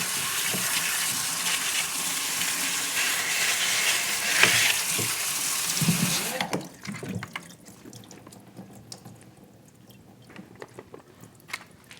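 Tap water pours hard over produce to rinse off a cleaning solution, a loud, bright splashing that stops abruptly midway and gives way to quieter drips, handling clatter and small knocks.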